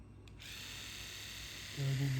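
Oral-B Vitality Pro Cross Action rechargeable electric toothbrush switching on and running, a steady close buzzing hum that grows louder and lower-pitched near the end.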